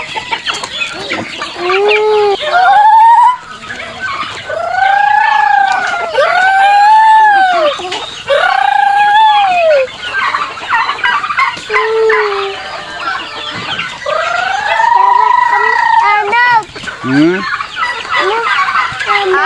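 Lots of chickens cluck and squawk at once with repeated rising crowing calls, loud and close, forming a busy, overlapping barnyard chorus, on Mt. Balagbag.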